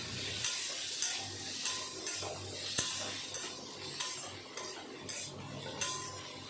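Prawns with turmeric and salt are stirred in a sizzling pan, a spoon scraping and tapping the metal at a regular pace of about one knock per second over a constant frying hiss.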